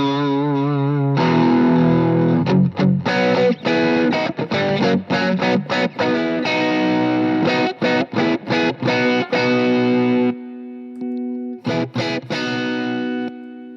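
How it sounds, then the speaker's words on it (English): An electric guitar played through a distortion pedal in a tone demonstration, with loud, saturated sustained chords and riffs broken by short rhythmic stops, close and alone with no talking. "Okay, and then comes distortion."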